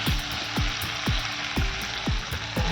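Bhopri wild greens hitting hot oil in a pan on a wood-fired clay stove, a loud, close, steady sizzle with regular rhythmic stirring scrapes about every half second.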